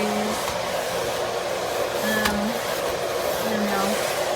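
A Miele Classic C1 bagged canister vacuum cleaner runs steadily with a constant whooshing airflow and a faint motor hum, heard close up.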